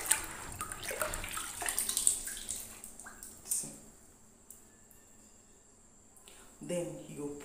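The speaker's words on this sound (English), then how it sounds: "I'm going to use my hand to stir it." Hand swishing and stirring sugar water mixed with alligator pepper in a bowl, giving soft splashy liquid sounds in bursts during the first half, with quieter stretches and a voice speaking at times.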